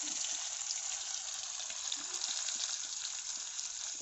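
Butter sizzling in hot oil in a home kitchen pan for paneer butter masala, a steady crackling hiss with faint occasional pops, continuous and close.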